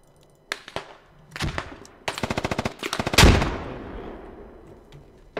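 Gunfire in the military shooter game Squad: scattered single shots, then rapid bursts of automatic fire and a heavy, booming blast whose rumble slowly decays, loud and close with no talking.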